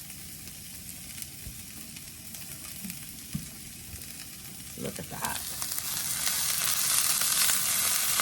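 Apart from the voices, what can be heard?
onions, peppers and potatoes sizzling in a pan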